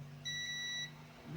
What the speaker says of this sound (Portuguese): Aqui não pode ter curto, não pode bipar de forma alguma nesse capacitor. Tá bipando.